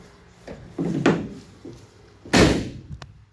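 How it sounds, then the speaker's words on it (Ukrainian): Doors of a Volkswagen Crafter 2.0 van being shut, with several solid thuds and slams in a row, two heavy bangs standing out, loud and close with no talking. "Давайте позакриваємо дверцята."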